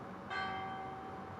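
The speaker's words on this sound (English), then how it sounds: "Church bells?" Church bells ring in the Martha Is Dead video game, a single bright toll swelling in over a steady ambient hum and fading into a sustained tone.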